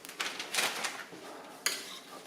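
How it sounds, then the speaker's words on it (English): Italian-style cheese is stirred into a pan mixture with a metal utensil, producing intermittent scrapes and clinks against the pan, with a sharp knock near the end. "And just kind of stir that around to make them extra creamy"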